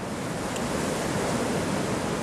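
Rough sea surf roars against Malta's rocky coast, a loud, unbroken broadband rush of crashing water mixed with wind buffeting the microphone, with no one speaking.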